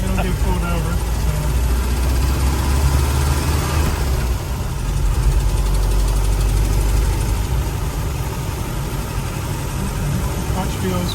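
A car engine running on its first test drive, a steady loud low rumble with slight knocking and mid-range drone throughout, close and continuous, with no break in the sound.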